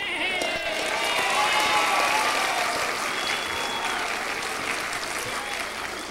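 Audience at a comedy show in Pigeon Forge, Tennessee, breaking into loud, sustained applause with some cheering, a thick, even wash of clapping that fades slightly toward the end.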